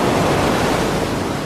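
Small ocean waves break on a beach during a surf passage training session, forming a steady, dense roar of surf and wash with no pauses and no voices.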